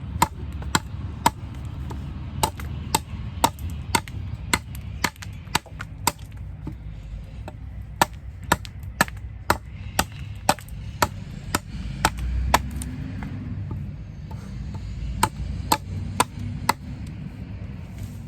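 Repeated chops of a 2021 Condor Mountain Pass axe biting into wood, sharp, close, evenly spaced strikes at roughly half-second intervals over a low outdoor rumble, with a brief pause midway.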